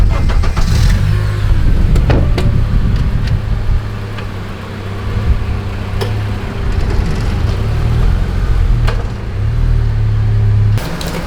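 An Acura TSX engine starts up and idles, then keeps running steadily with a loud, even hum and occasional clunks and knocks as the car moves off, with no talking.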